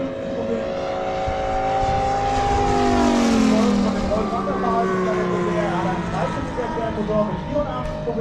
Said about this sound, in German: Jetzt hier die erste Corsair, jetzt im Überflug mit angetrieben von einem 15 Liter Sternmotor